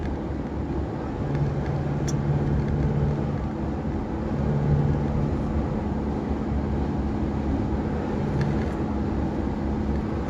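Southbound traffic on the SLEX highway near Lakeside East during Holy Monday hums as a continuous low drone, with passing vehicles swelling slightly at moderate distance.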